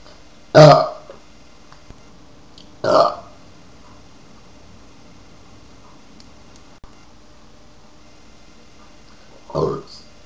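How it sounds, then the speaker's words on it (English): Three separate burps from one person, loud and close, each a short guttural belch with quiet pauses between them. The first is the strongest, the second comes a couple of seconds later and the last is near the end. "Different times I burp."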